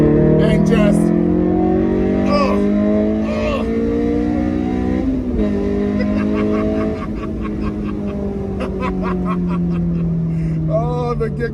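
A 2007 Honda S2000 engine revs hard and accelerates, its pitch climbing through gears with loud, close exhaust roar and brief dips between shifts.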